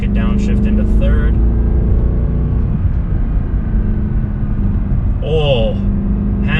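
Deep continuous engine rumble from a 2012 Mercedes C63 AMG driving in third gear after a downshift, loud and steady throughout, with someone talking over it.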